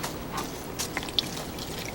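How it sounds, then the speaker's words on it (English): Water poured into a plastic bottle model of soil erosion filled with soil and leaves gives a quiet, soft trickle with a few small drips and splashes, heard alone without talk. "So I'm pouring the water in."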